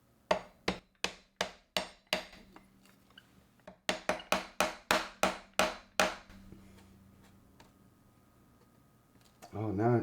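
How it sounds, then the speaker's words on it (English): A hammer striking a metal rail piece on a Onewheel GTS electric skateboard: about fifteen sharp, ringing blows in two quick rhythmic runs, close and loud, followed by a quieter stretch and a brief rising whine at the end. "I got a hammer here, so let's just see what we can do here."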